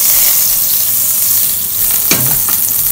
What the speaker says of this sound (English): Put it in the hot pan. If you have wok, it's much better. Then in goes your butter.